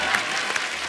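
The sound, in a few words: studio audience applause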